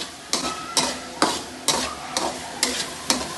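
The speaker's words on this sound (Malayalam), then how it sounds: "നന്നായി ഗോൾഡൻ കളർ വരെ ഇത് പൊരിയട്ടി." Crushed garlic and green chillies frying in oil until golden, a steady sizzle broken by seven regular scraping stirs of a spoon in the pan, close and clear with no voices.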